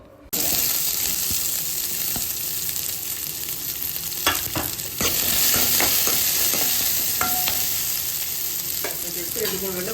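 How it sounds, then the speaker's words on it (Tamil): Onions sizzle in hot oil in a kadai, a loud, steady frying hiss that starts abruptly and carries on throughout, broken by clinks and scrapes of a ladle against the pan. No one speaks. "ஒரு கடாய் வச்சு எண்ணெய் ஊற்றி வெங்காயம் போட்டுக்கிறேன்."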